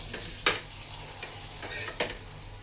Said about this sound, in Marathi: हे बघा कारलो हे मस्त फ्राय करून घेते